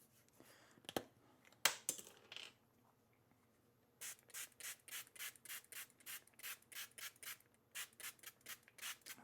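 Straight razor, a D.C. Halsted 6/8 wedge, rubbed on the coarse 325 grit side of an Escher hone to raise a slurry: a few scattered scrapes, then a quick regular run of close, gritty strokes.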